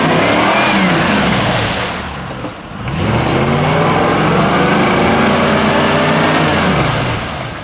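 A ZIL-131 6x6 off-road truck engine revs hard on rough terrain, loud and close, climbing in pitch, dipping briefly mid-clip, then roaring back up and sustaining strain.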